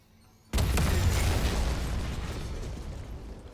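Explosion detonated in the Dead Space video game: a sudden loud boom after half a second of near silence, with a heavy low-end burst that slowly decays into a rumbling tail.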